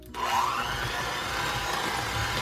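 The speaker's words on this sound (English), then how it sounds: "We're going to blend all this until it's nice and well combined." An electric blender whirs steadily, blending evaporated milk, vanilla extract and maple syrup for a pecan pie filling, starting abruptly and holding a loud, even motor drone.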